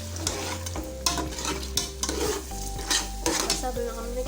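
Mutton for palak gosht fries on a high flame while being stirred briskly, with a bright sizzle and repeated metal utensil scrapes and clinks against the pot over background music.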